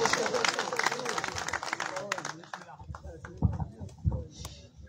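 Applause from a Pothwari mushaira audience for a poet, a dense crowd clapping that starts loud and broad, then thins over the second half into scattered claps and rustle.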